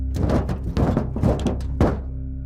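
Heavy thuds land on a roof in a narrated horror story, a quick series of close, dull thumps with a final loud one before it falls quiet.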